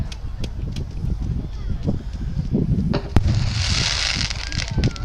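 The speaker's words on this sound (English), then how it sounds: "The Allies are firing back with their artillery pieces" Artillery pieces firing during a wartime battle reenactment in an outdoor arena, sharp booms standing out over a rumbling crowd and steady wind noise, with people talking throughout.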